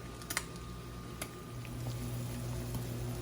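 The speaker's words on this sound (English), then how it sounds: "we are frying up our eggs now." Low, steady sizzling and crackling of eggs frying in a pan, with a few sharp clicks and taps near the start, close and fairly quiet.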